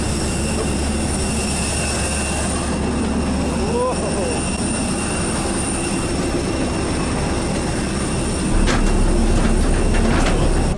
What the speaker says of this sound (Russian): Здесь и здесь беспилотные поезда.